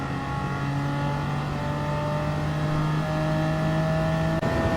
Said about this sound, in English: Now let's get the car up to its top speed.